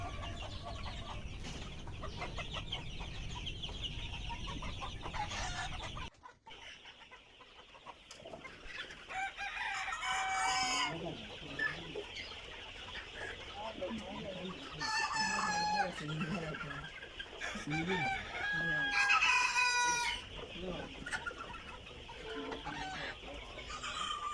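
Two-month-old Egyptian Fayoumi chickens cluck steadily in a flock while a rooster crows loudly several times, with the crows standing out over the constant background clucking.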